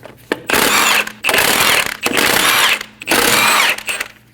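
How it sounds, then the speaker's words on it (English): A power tool with a 17mm socket spinning off the lug studs of a 2012-2022 Volkswagen Passat front wheel, four loud close whirring bursts of about a second each with short gaps between. "remove the 5 lug studs."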